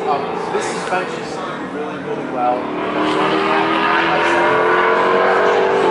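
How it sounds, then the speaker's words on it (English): Shelby GT350 Mustangs passing on the Sebring racetrack, engines droning and swelling in the background while someone talks over them. "there's the cars, you can hear them going by."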